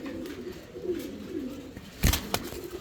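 Fancy pigeons at a pigeon farm give soft, low, rolling coos close by, followed by a brief louder clatter near the end.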